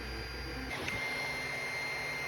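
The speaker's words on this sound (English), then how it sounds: "the 3D printer is almost done" A 3D printer printing small PLA wheels hums steadily and faintly, with a continuous whine and a low motor drone that shifts slightly partway through, heard alone.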